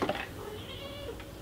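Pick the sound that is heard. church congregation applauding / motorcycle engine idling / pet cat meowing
pet cat meowing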